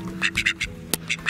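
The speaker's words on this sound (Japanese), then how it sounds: "アヒルアヒル。" Ducks quack repeatedly in quick, raspy bursts nearby, several calls overlapping in an uneven rhythm.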